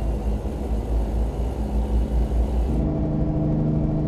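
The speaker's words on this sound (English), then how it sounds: "this truck does not like it when it has to speed up." A heavy truck engine in American Truck Simulator roars as it speeds up, a loud steady rumbling drone that drops in pitch and tone near the end, heard alone without talk.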